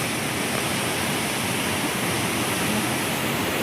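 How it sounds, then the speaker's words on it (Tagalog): Strong gush of water pouring over Wawa Dam, a loud, constant roaring rush with no break. "Yung bulwak ng tubig sa Wawa Dam oh."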